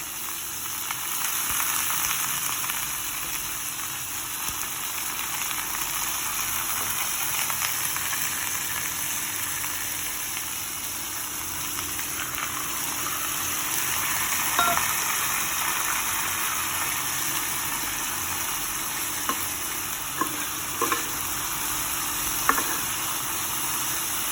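Soaked arhar dal frying in a pan, giving a steady close sizzle throughout with a few brief clinks and stirring sounds, no talking.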